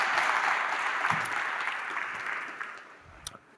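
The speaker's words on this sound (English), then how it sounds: "Harry, everyone give him a round of applause" An audience at a web performance conference claps steadily for a speaker, a dense even wash of applause that slowly thins and fades toward the end with a few last scattered claps.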